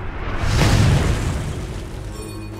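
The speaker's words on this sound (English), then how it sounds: "Red team's turret has been destroyed." A turret being destroyed in the online game Paladins gives a single loud booming explosion with a deep rumbling tail that fades slowly, with no talk over it.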